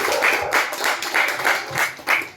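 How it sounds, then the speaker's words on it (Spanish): A church congregation claps in a steady rhythm during a worship service, roughly six evenly spaced bursts of many hands, moderately close with no voices over them. "Denle un aplauso al Señor"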